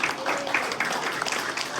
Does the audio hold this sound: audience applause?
yes